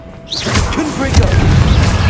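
A Confringo blasting spell in Hogwarts Legacy bursts into a loud, close explosive boom with a whooshing burst, continuing as rumbling blast noise under game effects and a brief voice.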